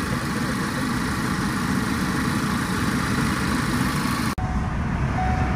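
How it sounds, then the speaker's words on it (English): A car engine idles steadily after a coolant drain, refill and bleed, a constant close low rumble with a brief cut near the end. "run the vehicle for, like I said, for 4 minutes"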